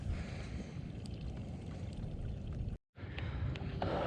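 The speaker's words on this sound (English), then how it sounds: "at the moment we are slow cruising down a mangrove canal here" A boat cruises slowly down a mangrove canal, giving a steady, even wash of broadband water and motion noise that drops out briefly near the end and then resumes.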